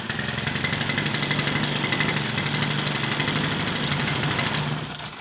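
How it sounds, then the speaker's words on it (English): A Stihl 4-Mix engine runs steadily at high revs, loud and close with a buzzing pulse, then winds down near the end as the valve cover seal is broken. "as soon as I break that seal, it's going to start sucking air in there, and the RPMs are going to go way up"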